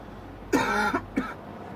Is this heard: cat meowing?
no